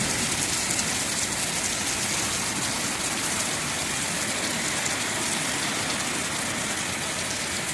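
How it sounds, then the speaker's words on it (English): Heavy, steady rain from a tropical storm in Jamaica pours down continuously, a dense wash of sound with no pauses and no voices. "hear the rain coming down"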